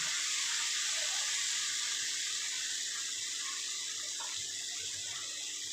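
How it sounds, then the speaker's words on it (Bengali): Water poured into a pan while cooking a fish curry with fried onion, turmeric and Kashmiri chilli: a steady, soft, continuous splashing hiss lasting several seconds, with no talk. "এটার সঙ্গে একটু অল্প জল দিয়ে দিলাম"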